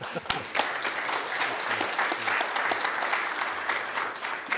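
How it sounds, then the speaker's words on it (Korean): A forum audience at a shared-growth forum on environment, technological innovation and ESG gives a round of applause, moderately quiet and even, with a broad wash of many hands clapping throughout. "그런 의미에서 한번 박수 쳐주시죠"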